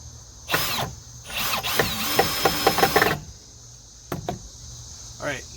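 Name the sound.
screws driven into wood with a power drill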